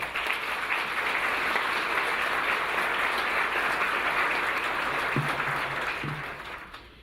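Sustained applause from the crowd at a city's State of the City address, a broad, even roar of clapping that holds steady and then fades out toward the end.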